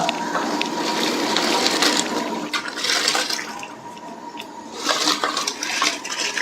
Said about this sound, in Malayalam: ഇപ്പം നന്നായിട്ട് വെട്ടി തിളക്കുകയാണ് അതിലേക്ക് നമ്മൾ ഊറ്റി വെച്ചിരിക്കുന്ന അരി ഇട്ട് കൊടുക്കുകയാണ്